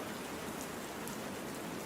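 Cartoon rain falls in a constant, even hiss of drops on a surface, with no voices and no change in level.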